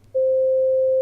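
A steady pure electronic tone from a sonified line graph played in Google Colab starts abruptly and holds at an even pitch for about a second, loud and alone with no voices.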